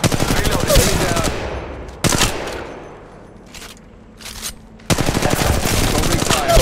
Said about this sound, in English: Opening fire. Making contact here.